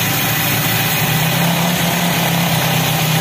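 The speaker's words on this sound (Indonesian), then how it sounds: "Kabel injektornya copot semua, tapi mesinnya bisa nyala." A Mitsubishi Lancer engine runs steadily with all its injector cables disconnected, giving an even, continuous idle-like drone with a low hum, close and alone with no talk.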